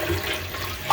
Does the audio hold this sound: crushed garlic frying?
no